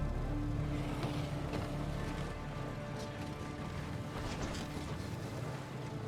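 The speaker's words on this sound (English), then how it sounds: "I repaired this car and it's already making noises." A freshly repaired car in the Darkside Mod video game gives off a steady, rough engine rumble with a faint rattling hiss. The noise stays fairly constant throughout, with no one speaking.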